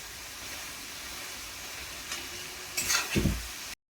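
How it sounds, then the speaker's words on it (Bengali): Luchi flatbread deep-frying in hot oil gives a faint, steady sizzle throughout, rising to a brief louder bubbling burst near the end. "এখন আমি লুচি ভাজছি"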